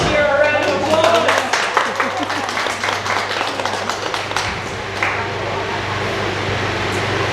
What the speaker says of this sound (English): give the shear a round of applause